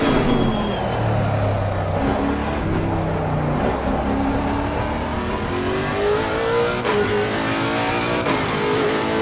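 A race car engine in the sim racing game Assetto Corsa Competizione drones and revs steadily through shifts, loud and continuous throughout.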